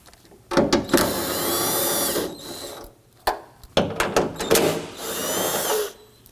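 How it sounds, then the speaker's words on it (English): Bursts of a power tool whir as 10mm nuts come off with a deep socket, inner tail light hardware on a 2018-2024 Toyota Camry trunk lid; several loud, close runs of spinning separated by short pauses. "I'm simply going to use my deep 10mm socket and start to remove the hardware"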